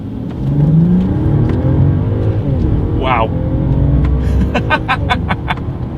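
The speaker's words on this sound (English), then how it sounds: "let's see how quickly we can get this one here up to speed" A Mercedes-Benz S500 engine rises steadily as it accelerates hard in sport and manual shift mode, a smooth climbing whine with a brief exclamation from someone inside.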